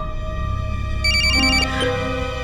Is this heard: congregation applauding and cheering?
no